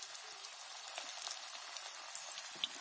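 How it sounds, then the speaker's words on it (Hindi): Small spinach pakoras fry in hot oil, giving a steady, fine crackling sizzle with tiny pops, fairly close and unbroken, with no speech. "मैं छोटे छोटे पीस में पकौड़ी बना ले रही हूँ, तेल हमारा गर्म है अच्छे से"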